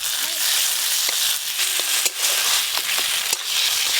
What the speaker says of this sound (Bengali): খুব ভালো করে মশলা কষবো। মশলা অর্ধেক কষানো হয়ে গেছে, এবার ওপর দিয়ে আমি টমেটো কুচি দিয়ে দেবো।